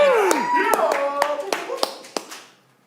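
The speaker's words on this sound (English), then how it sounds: "Everybody give them a round of applause!" An audience at a live main stage show bursts into a round of applause, dense clapping that tapers off over a few seconds, mixed with a few sharp individual claps and cheers.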